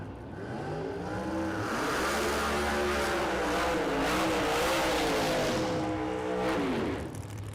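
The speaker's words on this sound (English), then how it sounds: "Now that's a couple of burnouts right there." Drag race cars doing burnouts on the strip at Las Vegas Motor Speedway during a street car event, with loud sustained engine roar and revving plus tire squeal throughout, no talk.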